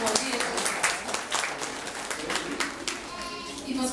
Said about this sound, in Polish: wielkie brawa dla wszystkich wszystkich autorów, tych prac, dla wszystkich dzieci